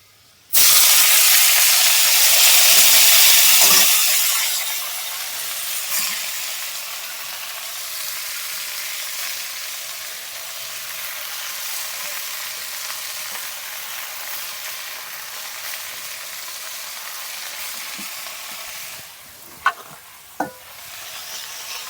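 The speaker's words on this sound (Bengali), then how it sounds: "তো রসুন ভাজা হয়ে গেছে, তখন দিয়ে দেব শাক" Leafy greens hit hot garlic-fried oil with a loud burst of hiss and spatter that lasts a few seconds, then settles into a softer, steady sizzle with a couple of sharp clatters near the end.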